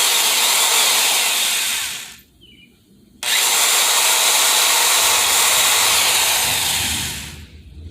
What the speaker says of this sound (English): You just drill through. You got to go slow and easy.